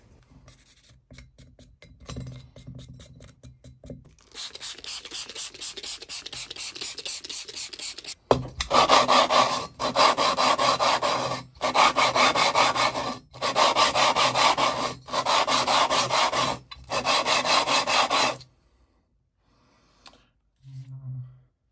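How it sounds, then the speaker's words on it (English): Steady rhythmic rasping of a metal part being rubbed back and forth on abrasive paper, close and loud, in long strokes that stop near the end. "I'll put that on some abrasive paper"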